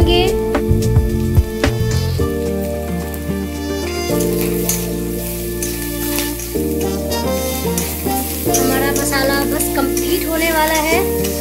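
Ground spices such as garam masala and cumin powder frying in a pan for aloo paratha filling, a steady hiss and sizzle with stirring, heard under prominent background music.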